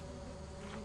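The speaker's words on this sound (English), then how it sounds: "there's a bee" A bee buzzes near a beehive, a short, faint, steady hum with no talk over it.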